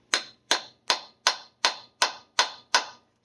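Eight sharp metallic taps from a brass hammer on a stripped differential or transfer case plug, in a steady, even rhythm, each ringing briefly before the next strike, close and clear.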